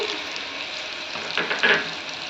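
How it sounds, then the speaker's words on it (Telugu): Chopped drumstick pieces tumble into a pan of hot oil and are stirred, giving a soft, even sizzle that swells into a brief louder scrape and clatter near the end. "ఇప్పుడు ఇందులోకి తరిగిన మునక్కాయ ముక్కలు వేసి"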